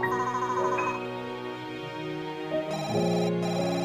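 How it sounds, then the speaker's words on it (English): A phone rings in the Cold Hearts video game with a melodic electronic ringtone of sustained tones that shift pitch in steps, playing alone and fairly loud. "My phone sounds way louder than it usually does."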